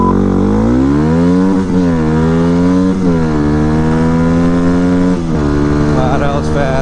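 Yamaha WR250R motorcycle from 2008 revving hard through a 0 to 60 run, loud and close, engine pitch climbing steadily and dropping at each gear shift, bouncing against the rev limiter.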